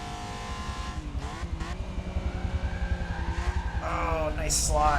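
A race car in the Forza Motorsport driving game, running on slick tyres, understeers into corners. The engine drones and revs close up, with a rising whine and scrubbing tyre noise. Commentary runs over it.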